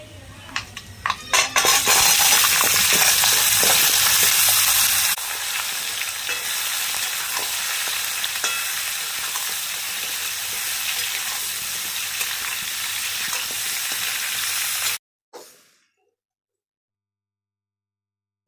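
Hog plums (amra) frying in hot oil with five-spice for pickle, loud crackling sizzle and brisk metal stirring against the pan, easing to a softer steady fry before stopping abruptly near the end.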